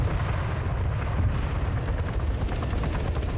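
A helicopter in a game armor battle, its tail rotor shot away by autocannon fire, heard as a loud, dense roar with rumbling blasts and rapid thudding rotor beats.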